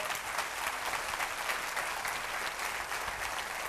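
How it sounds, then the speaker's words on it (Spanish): Steady applause from a church congregation fills the whole stretch, dense and continuous clapping at an even level with no talk over it. "Dele ese aplauso al Rey."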